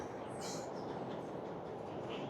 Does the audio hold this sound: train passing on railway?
yes